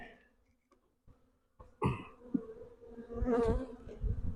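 Honeybees buzz around an opened hive during grafting prep, a soft hum rising among close handling bumps and a throat-clearing sound.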